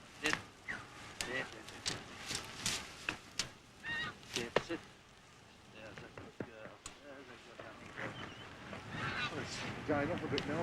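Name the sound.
goose honking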